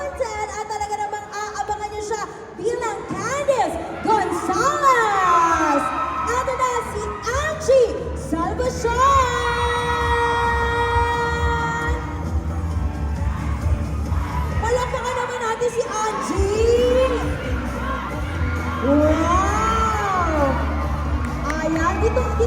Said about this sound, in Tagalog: Parinig nga ng palakpakan na may hiyawan!